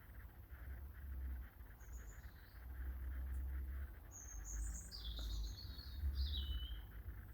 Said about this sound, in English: What's that singing? I know it's a blackbird